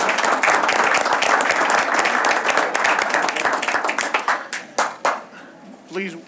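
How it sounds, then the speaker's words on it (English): An audience at a school board meeting claps for a student program, a dense burst of applause that breaks into scattered, individual claps and dies away toward the end. "Another round of applause for these guys."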